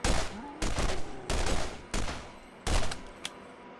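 Bursts of gunfire from a weapon in the shooter game Borderlands, five loud volleys of rapid shots with short gaps between them, up close and filling the mix.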